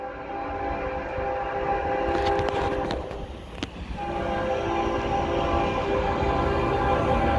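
Norfolk Southern freight train 13R passes at Shenandoah Junction with a nine-locomotive lashup including a road slug, geeps and a GE unit, giving a loud continuous rumble and rail noise with a horn blowing steadily throughout and a brief rattling burst midway.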